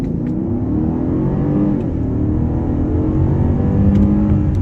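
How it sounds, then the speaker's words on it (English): A 2013 Mercedes S550 with a V8 engine accelerates hard on the road in sport suspension mode. A strong, rising engine roar with tire and wind whir stays loud and close for several seconds. "we're going to go ahead and get on it and see how it accelerates"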